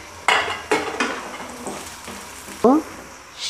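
Cauliflower pieces dropped into hot oil in a pan for mixed vegetable curry, with sharp metallic clanks of a spatula against the pan over a steady close frying sizzle, several distinct knocks spread across the moment.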